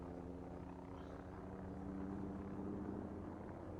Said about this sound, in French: Hélico.